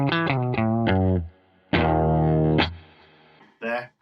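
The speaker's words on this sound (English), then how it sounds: "here is my clean tone. There is too much reverb." Electric guitar with a clean tone through a Taurus Servo 2 unit with heavy reverb, several sustained chords ringing out with long washy tails, near and fairly loud, with a short quieter gap between strums.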